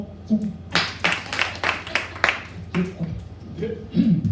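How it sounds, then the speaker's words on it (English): Comedy show audience clapping and snapping fingers, a scattered series of sharp claps and snaps at an uneven rhythm with faint murmuring underneath. "You can snap or clap."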